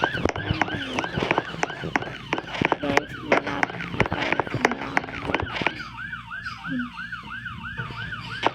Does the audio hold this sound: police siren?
yes